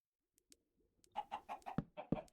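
A Minecraft chicken clucks in a run of short, quick clucks that grow louder after a near-silent start, with faint ticking before and no voices.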